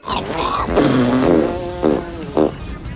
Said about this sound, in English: he gave us a fart contest in Peacemaker's finale